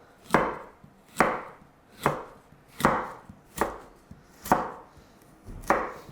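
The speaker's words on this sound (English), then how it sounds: "And we slice through into our nice fine matchsticks." A knife slices a carrot into fine matchsticks on a cutting board for a Thai rice salad, landing seven evenly spaced, crisp chops at a steady rhythm, close and clear with no talking.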